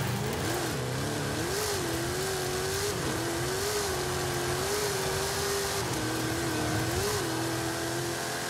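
A sleek car's engine revs and drones steadily in Forza Horizon 5, pitch rising and falling through gear changes, loud and continuous with no voices.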